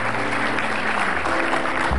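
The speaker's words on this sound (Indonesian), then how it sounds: "tepuk tangan sekali lagi" Audience clapping at a comedy talk show, a brief burst of steady applause that fills the hall.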